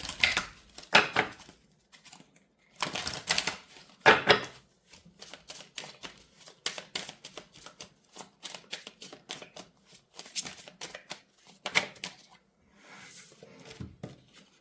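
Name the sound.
shuffling and drawing tarot cards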